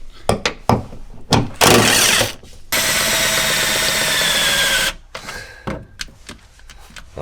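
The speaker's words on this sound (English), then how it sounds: "These we're inserting nuts into the sheet metal." A power tool sets rivet nuts into the sheet metal of a drift car's trunk area, with sharp clicks and thumps around a loud whirring run of several seconds.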